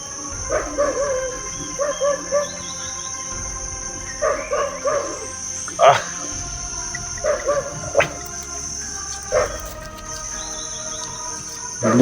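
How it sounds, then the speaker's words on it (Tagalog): A dog barks repeatedly in the distance near a rural Philippine settlement, short irregular yelps spread across the stretch, set against steady insect buzz and bird chirps. "Malapit na tayo dahil may tumatahol na aso"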